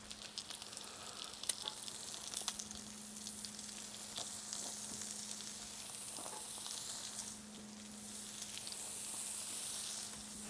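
Pork belly slices sizzle and fry on a compact tabletop barbecue grill, a steady close crackling hiss with small pops and a faint low hum underneath, no talking.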